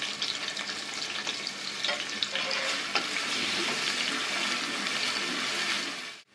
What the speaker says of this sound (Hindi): 3 बड़े साइज की प्याज ऐसे स्लाइस काट लिया है, इसको पहले डालकर फ्राई करेंगे।